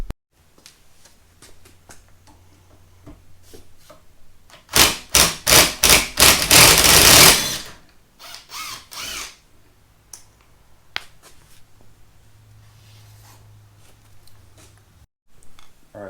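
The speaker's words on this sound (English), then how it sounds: "I have an impact with an impact bit, so I'm going to do that" An impact driver with an impact bit backs out the handlebar end screws on a 2022 Honda Grom, firing a loud rapid hammering burst of blows for a few seconds, with quieter taps and workshop handling before and after.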